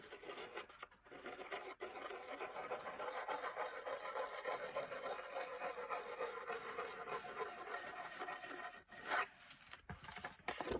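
Paper is burnished down onto a mini album page with steady, close rubbing and scraping strokes, a soft continuous rasp for about eight seconds, then a few brief taps and handling sounds.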